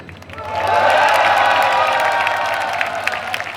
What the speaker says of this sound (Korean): 먼저 KTNG 큰 함성 부탁드립니다